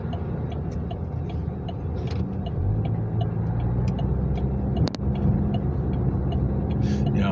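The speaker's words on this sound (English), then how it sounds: "Oh, fuck this traffic." Steady road traffic rumble heard from inside a car in city traffic, a continuous low engine and tyre drone with faint ticking, fairly loud and constant throughout.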